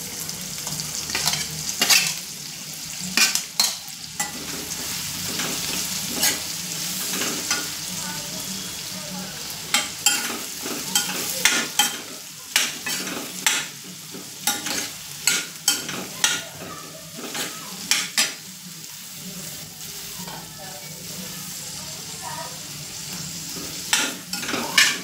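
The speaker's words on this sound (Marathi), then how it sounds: "कांदा मस्त लालसर करून घेणार आहोत।" Onion frying with turmeric in a pan, heard as a bright, steady sizzle with frequent rhythmic stirring scrapes of the spatula across the pan, close and fairly loud, with no speech.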